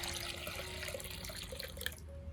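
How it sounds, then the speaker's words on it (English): A liter of water is poured into a container to make a cinnamon soak for an orchid, producing a steady close splashing rush that tapers off near the end. "Add 1 liter of water"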